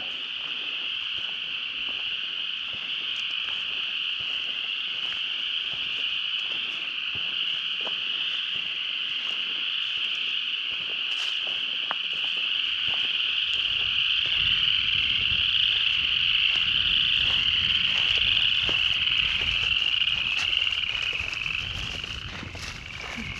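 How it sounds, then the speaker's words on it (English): Frogs croak in a steady, dense chorus at a nature preserve, a continuous high trilling wash that swells slightly toward the end, with a low rumble joining in later and no talk. "But you hear the frogs."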